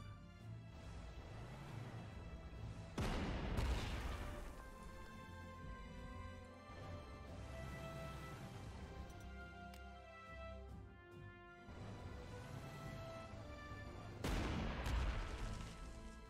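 Artillery fire in the Panzer Corps 2 video game comes as a few heavy booming blasts a few seconds apart, each trailing into a low rumble over quiet background music.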